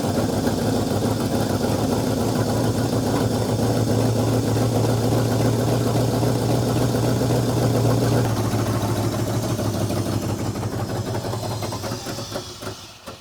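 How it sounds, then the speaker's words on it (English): A homebuilt dump truck's engine runs steadily on fuel left in the carburetor, a loud continuous low rumble with a rough, pulsing idle that gradually fades and sputters toward the end as the fuel runs out. "I'm gonna kick the engine over and let it run with what's in the carburetor."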